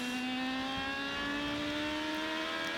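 An IndyCar race car at Twin Ring Motegi accelerates hard out of a corner, its engine a loud, steady high-pitched whine rising smoothly in pitch, with no voices.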